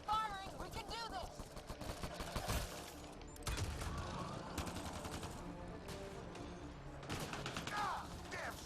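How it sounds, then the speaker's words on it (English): Rapid gunfire in the sci-fi shooter Mass Effect Andromeda, with bursts of automatic shots and sharp cracks mixed with explosions and game effects, heard under a person talking. "Just keep firing."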